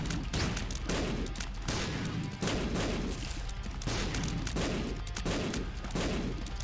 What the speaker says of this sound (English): bombs explode really fast